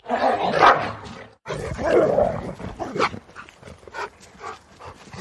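A dog-like creature in a tabletop role-playing scene growls and barks in loud, close, agitated bursts, with snarling between a short pause.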